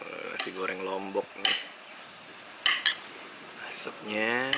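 Lombok fried rice sizzles in a pan with metal utensils clinking and scraping as it's stirred, while voices talk intermittently nearby.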